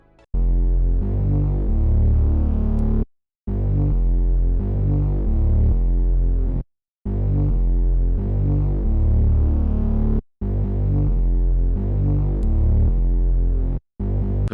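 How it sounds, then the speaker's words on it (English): A heavy, distorted Moog-style synth bass line from Omnisphere's Growler preset pulses in repeating phrases, loud and close, with brief silent gaps between sections. "I used the Growler Moog bass"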